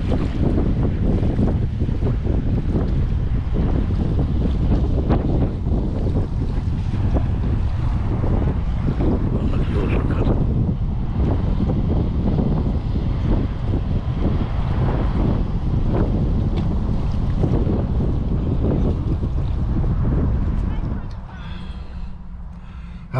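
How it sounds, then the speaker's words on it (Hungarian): Heavy seaside wind pounds the camera microphone in a loud, continuous rumbling roar that drops off abruptly at the very end, with no voices. "nagyon erős a szél hangja, mondom, behaladszott a kamera"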